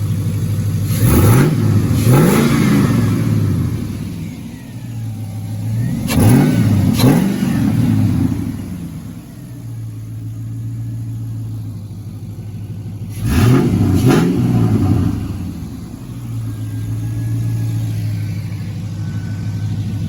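An LS V8 engine in a Chevrolet S10 truck with a TBSS intake revs hard in three bursts, each climbing and falling, with a steady rumbling idle between them; loud and close, no talking.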